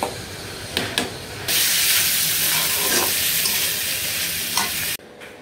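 Shrimp hit a hot pan in a home kitchen and burst into a loud, steady sizzle and frying hiss after a few light clatters, then cut off abruptly near the end.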